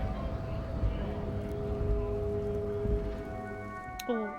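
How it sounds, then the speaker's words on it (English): Rain falling in the Disco Elysium video game, a steady soft patter of drops over low musical drones, with a brief tonal shift near the end. "Rain falls on the great city of Rivershore. Rain drips from the eaves and floods."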